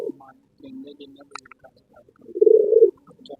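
A pigeon kept by a pigeon fancier coos once in a loud, low, throaty burst near the end, after a few softer murmurs close by.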